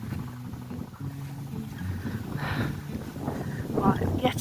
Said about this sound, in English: yet again it's windy